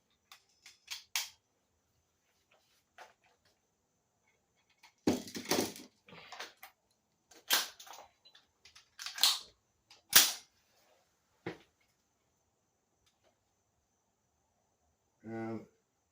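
Gas blowback airsoft gun with a VFC gas system firing indoors: sharp, loud single cracks spaced out over several seconds, some in quick pairs, with long quiet gaps between them.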